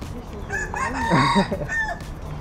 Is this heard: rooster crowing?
yes